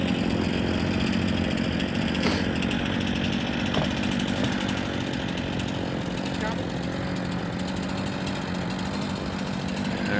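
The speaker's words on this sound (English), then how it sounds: "as he cuts through with the chainsaw" A loud chainsaw roars continuously nearby as it cuts lumber into 17.5-inch pieces at a campground wood processing rack, its engine drone steady and harsh throughout.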